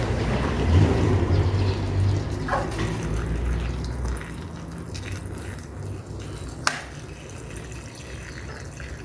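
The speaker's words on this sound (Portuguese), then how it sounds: "tô colocando a água" Water is poured onto oregano seedlings growing in a PET bottle, a close soft splashing and trickling that is strongest at the start and then fades to a quieter dribble.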